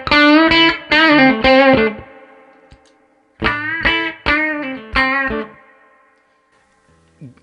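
Electric guitar played through a Jack DeVille Deuce Coupe overdrive pedal at low gain: two phrases of loud, slightly driven picked notes and chords with added mid-range body, each ringing out into silence, played alone without talk.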